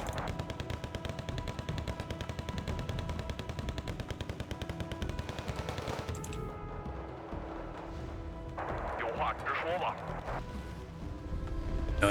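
Rapid machine-gun bursts and heavier artillery booms from the video game Wargame, dense rhythmic firing for the first half, then sparser blasts, with someone talking over the battle.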